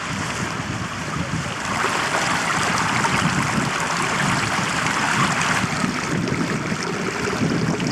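A fast flowing mountain stream in the Lake District rushes in a steady, dense broadband roar, close and loud, with no voices over it for the full stretch.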